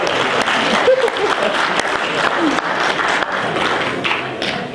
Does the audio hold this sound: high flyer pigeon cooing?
no